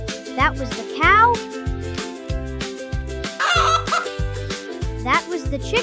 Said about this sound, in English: That was the chicken.